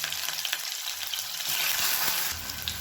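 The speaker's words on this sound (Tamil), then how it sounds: "இப்போ இதில் மீடியம் சைஸாக வெங்காயம் பொடியாக கட் பண்ணதை சேர்த்துக்கலாம்." Finely chopped medium onions hit hot oil with fennel seeds in a pan, giving a continuous close, dense sizzle that swells briefly in the middle, with no talking.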